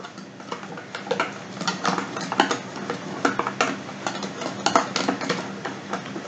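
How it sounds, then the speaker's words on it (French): Melted butter being worked into clafoutis batter for a cherry dessert, with quick rhythmic whisk or spoon taps against a bowl, close and steady throughout. "Alors, voilà, on va rajouter maintenant"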